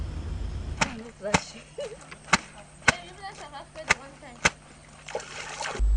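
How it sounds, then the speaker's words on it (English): Washerwomen scrubbing and pounding clothes at a river, sharp slapping thuds recurring roughly every half second over a low steady background, with a voice talking underneath. "The exciting sound of scrubbing and pounding of dresses and the idea that dirt is being washed away from the clothes"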